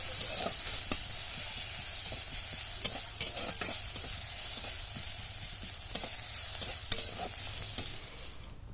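Onions sizzle and crackle steadily in hot oil in a wok, with intermittent scrapes and clinks of stirring over a constant frying hiss; nobody speaks.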